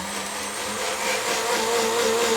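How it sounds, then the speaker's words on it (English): A small blender whirs steadily as it blends ingredients into milk. The motor runs as a loud, close, continuous drone with a faint rise in pitch, and no voices are heard over it. "I'm going to blend this up with a little blender I've got"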